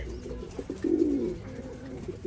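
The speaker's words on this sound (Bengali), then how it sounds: "এগুলাও হাফিজ লফটের কবুতর" Soft, low cooing from racing pigeons in a loft, a few short coos and then one longer rolling call, close and fairly quiet with no talking.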